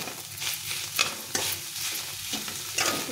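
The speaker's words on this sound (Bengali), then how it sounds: "নেড়ে নেড়ে ভালো করে চিনিটাকে" Chhana frying in a pan as sugar is stirred in, a spatula scraping in repeated strokes over a steady close sizzle, with sharper scrapes at intervals and no voices.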